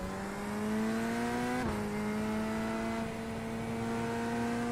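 Corvette race car engine in iRacing, a steady loud drone holding pitch, with a brief dip and shift as it changes gear midway, then settling into a sustained rising note.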